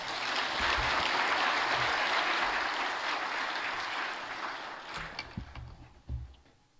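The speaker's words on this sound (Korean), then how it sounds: "나오실 때 박수로 환영하겠습니다" A church congregation claps to welcome a guest preacher to the pulpit during a Sunday worship service; dense clapping holds steady, then thins into scattered claps and fades out.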